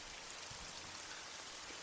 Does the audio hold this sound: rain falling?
yes